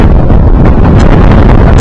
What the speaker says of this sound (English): You can see the wind's really starting to pick up now.